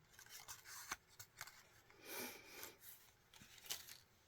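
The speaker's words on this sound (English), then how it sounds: "and I just fussy cut them" Scissors snipping and rubbing against paper while fussy cutting out small handmade paper flowers and leaves for a card, a quiet series of close, irregular cuts and rustles with no talking.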